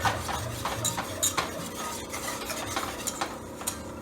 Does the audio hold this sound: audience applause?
no